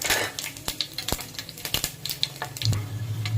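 Cloves hitting hot oil for tempering give a light crackling sizzle with sharp pops and spatters, fairly quiet and close, ending in a low steady hiss.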